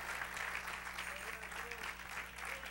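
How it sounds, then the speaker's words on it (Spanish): A church congregation applauds together, a steady dense wash of clapping at moderate distance, with a low hum beneath and a voice faintly present. "Sigue aplaudiendo."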